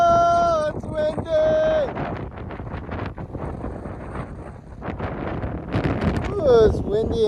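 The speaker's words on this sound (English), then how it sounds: "Ooh, it's windy and cold." Strong cold night wind gusts and buffets the microphone on Hawaii's Magic Sands shore, a loud roaring rush that rises and falls. A person speaks at the start and again near the end.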